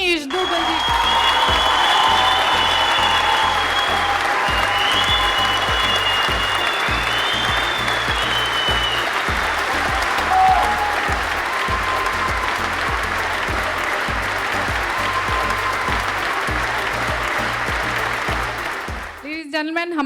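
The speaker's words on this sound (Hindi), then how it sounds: "बहुत सारी तालियों से स्वागत करिए हमारे बहुत ही handsome jury member Rajneesh Duggal जी" Sustained audience applause and clapping greets a jury member, Rajneesh Duggal, at the Bollywood Mr. & Miss India 2019 Season 3 pageant, loud and steady for about twenty seconds with music in the background, then dropping off abruptly at the end.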